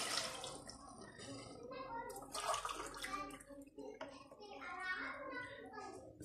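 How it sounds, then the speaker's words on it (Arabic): Hot water poured into a pan of well-fried chicken, a steady splashing and sizzling pour up close with a voice talking over it throughout. "نمرقوا بماء سخون لأنه الدجاج اتقلى مليح"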